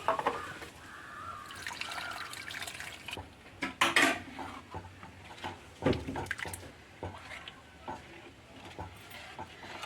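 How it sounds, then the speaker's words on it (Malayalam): Tamarind water is poured into a pot of horse gram curry in short splashing bursts, with light clinks of utensils in a quiet kitchen. "നമുക്ക് ഇത്തിരി പുളി വെള്ളം ഒഴിച്ചു കൊടുക്കാം"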